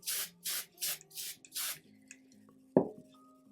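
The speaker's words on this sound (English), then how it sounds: "I'll just use a little bit of hairspray." Hairspray hisses onto hair in five short, evenly spaced spritzes at close range, followed by quiet handling sounds and a soft thump.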